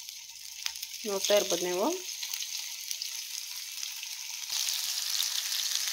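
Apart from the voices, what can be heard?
chicken keema vade frying in hot oil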